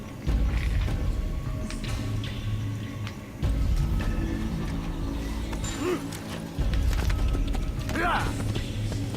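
Steady clip-clopping horse hooves with creaking, mechanical tack sounds run through, under a busy Assassin's Creed game soundscape with music-like tones.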